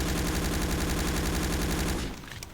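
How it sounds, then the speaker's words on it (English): Sten submachine gun from Day of Defeat: Source firing one long unbroken automatic burst, a rapid rattling stream of shots that emptied a magazine and cut off abruptly near the end. "I just used the whole magazine to kill that guy."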